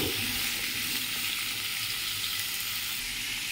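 Pumpkin and shrimp sizzle steadily as they fry in a pan, a continuous close crackle broken by soft stirring scrapes, with no voices.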